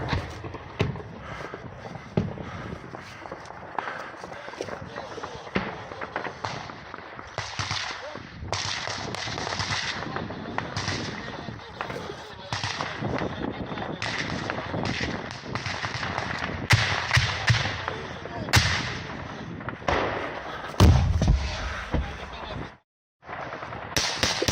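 Gunfire in combat crackles as many sharp, irregular shots and bursts, some close and loud, others further off, running continuously with occasional shouting voices underneath.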